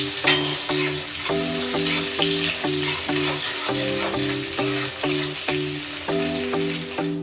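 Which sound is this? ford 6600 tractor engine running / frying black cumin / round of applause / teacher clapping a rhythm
frying black cumin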